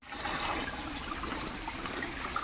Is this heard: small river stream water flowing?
yes